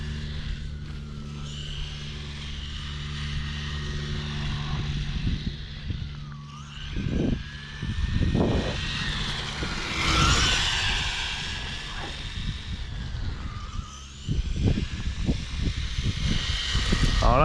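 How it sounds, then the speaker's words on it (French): Carisma Subaru brushless RC car running through a corner on a model track, a continuous high electric whine that eases briefly at the corner entry and swells again, with some wheel scrub and nearby thumps. "tout ce que je fais, c'est lâcher un tout petit peu le gaz à l'entrée du virage, de moitié, et on reprend"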